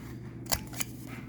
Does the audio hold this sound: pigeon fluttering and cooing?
no